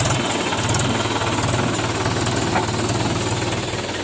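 A Mahindra 575 DI diesel tractor, hitched to a trolley stuck in a pit, runs loud and close with a fast, rhythmic knocking thump that stays steady and unbroken for about four seconds.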